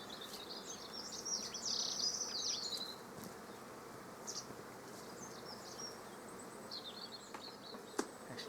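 A strong honey bee colony, recently moved up from a garden, buzzing steadily in a continuous hum with a few louder passes from individual bees, heard close in an otherwise quiet outdoor setting.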